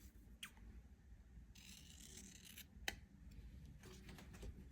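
Scissors snip through paper while trimming a Happy Planner dashboard layout, a few quiet crisp cuts and rustles close by in an otherwise hushed room.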